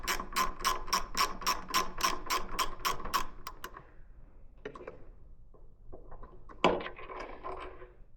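A ratchet wrench clicks rapidly in a steady run of about a dozen sharp ticks while a bolt comes off a Honda CB650R motorcycle, followed by a few scattered metallic handling clatters and light knocks.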